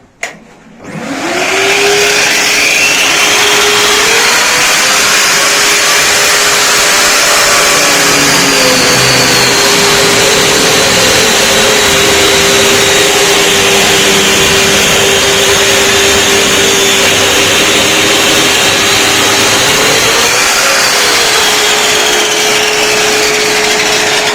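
A wet-dry electric vacuum cleaner on a construction site switches on with a sharp start and then runs as a loud, steady motor whine and rushing airflow for the rest of the clip.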